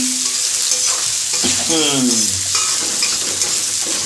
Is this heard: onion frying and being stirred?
yes